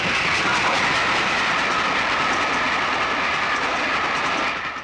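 A steam express train rumbles past close by, loud and continuous with a rushing roar and faint rhythmic clatter, easing off slightly at the end.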